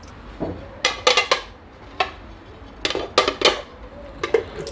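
A plate being picked up and set down in a home kitchen while making kavurma, with several sharp clinks and clatters of dishes and cutlery in short bursts, close and clear, no talk.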